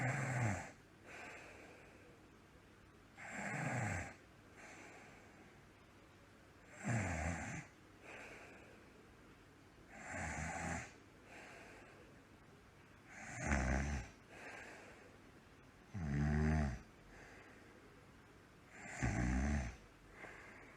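Loud snoring in a staged imitation of Numberblock 99, seven drawn-out, rasping snores repeating about every three seconds with quiet gaps between them and no talking.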